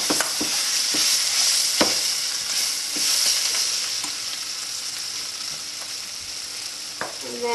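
Onions for onion sambol sizzle in a pan, with a steady close frying hiss and several sharp scraping stirs of a utensil against the pan.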